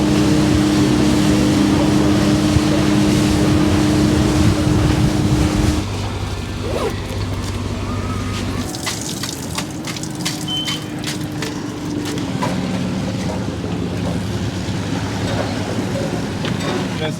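A boat trolling motor runs at close range on the water, a steady hum that shifts pitch partway through, with wind buffeting and faint splashes around it.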